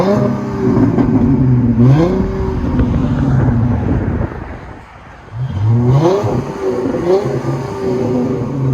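A 2010 Dodge Challenger 3.6L V6 with Flowmaster Super 44 exhausts revs hard twice, with a rising throaty roar, a brief drop toward idle, then a second climb, loud and close outdoors.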